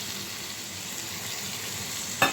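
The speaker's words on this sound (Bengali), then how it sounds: "কাসকি মাছটা আমি একটু ভেজে নিব।" Kaski fish frying with ground spices in a pan, giving a steady soft sizzle throughout, with a brief louder clatter or stir near the end.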